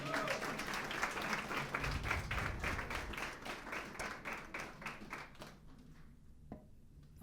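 Church congregation at a family service applauding in praise, a sustained patter of many hands that thins out and fades toward the end.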